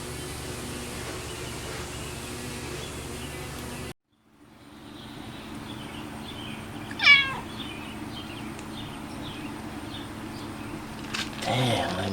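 A house cat lets out a single clear, close meow over a steady low background drone. A brief drop to silence comes a few seconds before it.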